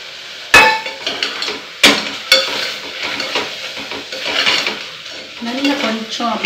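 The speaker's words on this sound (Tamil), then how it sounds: "நல்லா கொஞ்சம் அப்படியே நல்லா எண்ணெயை கொஞ்சம் வதக்கிட்டோம்னா நல்லா இருக்கும்." Chillies sautéing in oil in a home kitchen pan, with a steady sizzle and frequent clinks and scrapes of a utensil stirring against the pan, a few sharp knocks standing out near the start.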